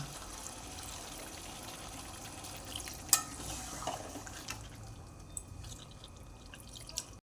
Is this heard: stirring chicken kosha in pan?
yes